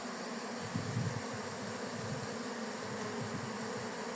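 Honeybees swarm and buzz around an opened beehive: a dense, steady, close hum that holds at even loudness throughout, with no voices.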